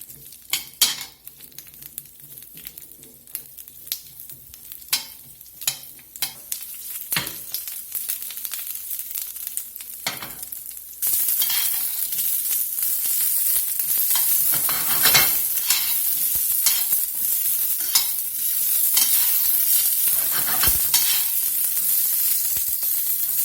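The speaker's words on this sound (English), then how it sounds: "we're just going to let these saute here a minute or two until we get some color on them" Asparagus spears sauté in hot oil in a skillet over medium heat, a quiet clatter of turning and tossing that gives way to a loud, steady sizzle and crackle, with occasional scrapes against the pan.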